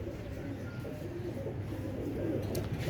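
An original old-breed Teddy pigeon coos close by, a soft, steady, rumbling murmur lasting a few seconds with a faint background hiss.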